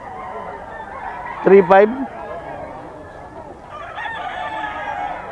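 A white Kelso bull stag gamecock crows once near the middle, a short loud burst over market chatter and background noise; people talk throughout.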